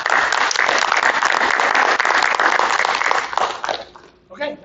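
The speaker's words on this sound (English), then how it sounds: "One final round of applause." A school board meeting audience gives sustained applause for a retiring staff member, dense clapping that holds steady before fading out near the end, where a brief voice follows.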